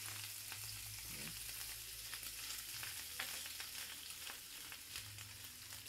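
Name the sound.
chorizo frying in oil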